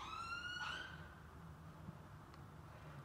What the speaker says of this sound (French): On va attendre que l'ambulance passe.